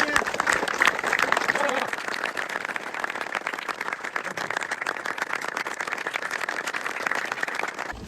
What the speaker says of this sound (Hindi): ताली बताओ सारे बच्चे,